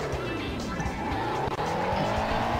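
Tires squeal and skid continuously as a car slides in a rally racing video game, under a loud revving engine, with a player talking over it.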